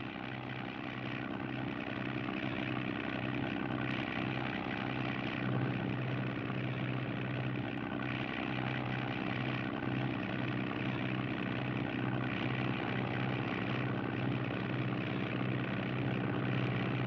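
Airplane engine drone from a 1941 radio-style comedy scene, a steady continuous hum held at even loudness throughout with no talk over it.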